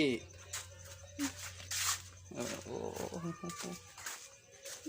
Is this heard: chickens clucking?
no